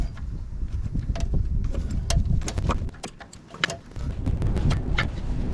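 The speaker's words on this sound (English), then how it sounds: "This wind is incredible." Strong gusting wind buffets the microphone outdoors during work on a 2005 Chevrolet Silverado 3500, a loud, continuous rumbling roar with brief dips and crackling spikes.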